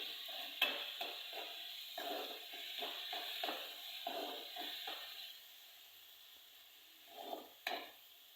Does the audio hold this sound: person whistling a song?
no